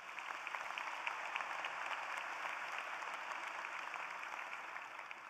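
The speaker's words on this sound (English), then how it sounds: "So please, another round of applause" Audience at a college of engineering commencement ceremony claps in a steady, even wash of applause, moderately distant and sustained for the whole span without talk.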